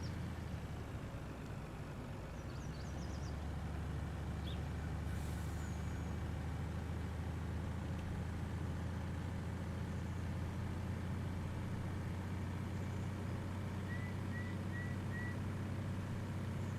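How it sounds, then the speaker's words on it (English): Truck engine in the Farming Simulator 19 game on the Upper Lake farm map, a steady low rumble that holds for the whole stretch with no pauses, with a faint hiss now and then. "See if Matt can make it over there without wrecking this truck this time."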